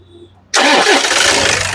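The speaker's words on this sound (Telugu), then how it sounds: "సింగిల్ సెల్ఫ్ లో కార్ స్టార్ట్ అయితే ఎటువంటి స్టార్టింగ్ ట్రబుల్ అయితే లేదండి" After a short quiet moment, a 2015 Toyota Innova 2.5 engine cranks and catches at once, then settles into a loud, steady idle.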